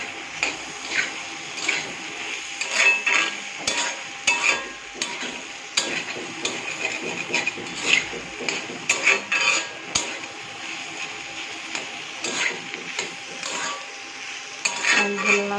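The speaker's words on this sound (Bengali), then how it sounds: "একটু নেড়ে চেড়ে নেব। হালকা একটু ব্রাউন ব্রাউন কালার হয়ে যাবে।" Food being stirred in a pan until lightly browned: steady scraping and clattering of a utensil against the pan, with faint frying beneath, continuing unbroken for the whole stretch with no voices.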